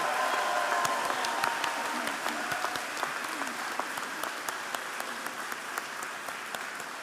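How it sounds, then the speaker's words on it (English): A hearty round of applause from graduates and guests at a university undergraduate commencement, steady and broad with individual claps standing out, slowly easing in loudness throughout. "join me in a hearty round of applause to thank your family, your friends, and those who support and sacrifice to help you reach this day"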